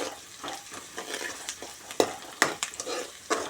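Potatoes and green chillies fry in a pan with a steady sizzle, broken by several sharp scraping stirs of a spatula against the metal.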